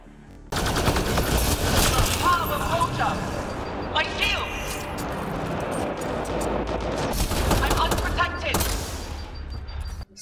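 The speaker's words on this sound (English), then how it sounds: "the second gun I had was the M96 Matic 1 assault rifle, a fairly standard assault rifle" M96 Mattock assault rifle fire in the Mass Effect Andromeda multiplayer game, a dense, nearly continuous rattle of shots with booming impacts, loud and sustained for about nine seconds.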